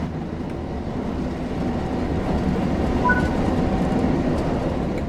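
A Great Western Express train in Train Sim World 3 rolls steadily under power, a continuous low rumble of wheels and motors with faint tonal whines, no pauses and no talk.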